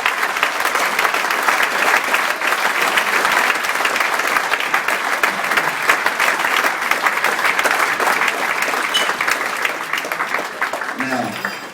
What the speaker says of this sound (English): just like a round of applause for Parks, he's not here.